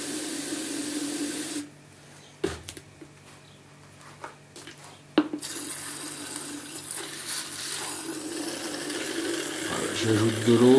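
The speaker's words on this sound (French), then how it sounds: "J'ajoute de l'eau." Water poured from a tap into a bottle of paint, a steady hissing rush that stops briefly, then resumes with some clinks and knocks before the stream grows stronger at the end.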